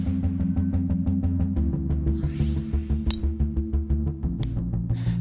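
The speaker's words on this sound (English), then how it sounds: "That is the sound of two of the top-selling game improvement irons on the market that are" Cast game-improvement golf irons striking balls, a series of sharp metallic clicks and impacts heard over loud, steady background music.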